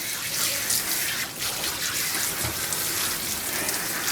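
Water sprays steadily as a Shih Tzu is rinsed during grooming, a close, continuous hiss that stays unbroken throughout with no talking.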